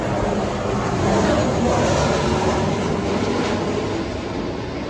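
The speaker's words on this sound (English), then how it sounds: "Another plane coming." A broad, steady roar of an airplane passing overhead fills the whole clip, loud and continuous, swelling slightly then easing.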